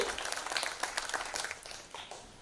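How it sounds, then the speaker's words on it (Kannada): An audience at the second day of an Infant Jesus church novena applauds, a dense patter of many hands clapping that stays steady and then gradually fades. "ಚಪ್ಪಾಳೆ ಕೊಡಿ ಪ್ರಿಯರೇ."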